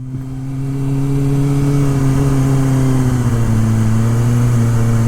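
A motorcycle engine idles and revs steadily at a rural Japanese rider meetup in Chichibu, Saitama, a loud sustained low drone with a slight drop in pitch partway through, close by with no talking.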